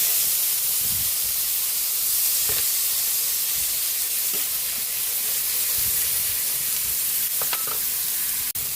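Chopped tomatoes sauté in a hot pan for a Filipino ginisang sayote dish, a steady loud sizzle and hiss running throughout with a few faint utensil clicks and no talking.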